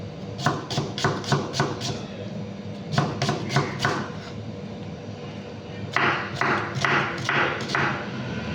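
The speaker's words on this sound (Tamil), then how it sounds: "இந்த வெங்காயத்தையும் கட் பண்ணிப்போம்" A knife chops an onion on a cutting board in quick bursts of crisp, rhythmic taps, pausing between runs, close and distinct.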